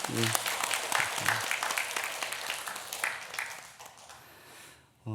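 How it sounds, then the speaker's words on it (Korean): A church congregation at a Sunday afternoon worship service applauds in encouragement, a full burst of clapping that thins out over about five seconds, with a voice faintly heard alongside. "박수로 격려해 드리면 좋을 것 같아요"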